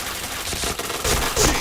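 Rapid bursts of automatic gunfire from the video game Point Blank, a dense, loud rattle of shots that swells in the second half, with no speech over it.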